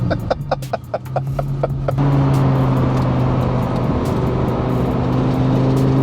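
A twin-turbo 2009 Lamborghini Gallardo LP560-4 drives along, a sustained loud engine drone with turbo spool under it, following a stretch of short rhythmic clicks at the start.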